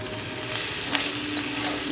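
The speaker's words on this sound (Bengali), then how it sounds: "দিয়ে এটা এখন সুন্দর করে নাড়বো" Potatoes with turmeric being stirred in a frying pan, giving a continuous close sizzle with faint scraping, one brief louder clink near the middle, with no voices.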